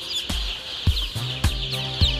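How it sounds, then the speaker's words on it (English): Young chicks in a brooding room cluck and cheep in short, repeated calls, fairly close, with soft thumps of movement between them. "You can notice how excited the birds are in their new space."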